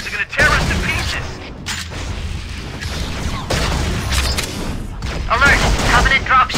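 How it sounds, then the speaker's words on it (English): Stationary Covenant guns blasting away in Halo: Custom Edition aboard the Truth and Reconciliation ship, with heavy repeated booms and bursts of fire coming thick and loud, and voices shouting amid the barrage. "Those stationary guns are gonna tear us to pieces!"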